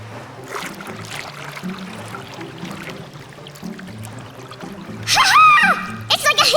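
A dolphin splashes loudly in the water at feeding time in an ocean-animal setting, a short burst of spray near the end following steady background chatter, with people talking and laughing.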